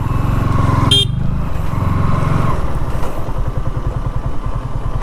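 A Yamaha R15 V3 motorcycle rides into a college, its engine throbbing close and loud at low speed, with a short horn honk near the start and the engine note dropping to a chugging idle.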